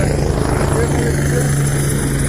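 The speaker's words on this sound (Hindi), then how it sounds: "जो लोग हेलीपैड से आ रहे हैं वो हेलीकॉप्टर में इधर इनको छोड़ देते" A helicopter near the Kedarnath helipad drones loudly and steadily up close, its rotor and engine roar filling the whole stretch without a break.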